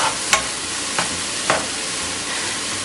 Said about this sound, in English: So I'm cooking the veggies on low.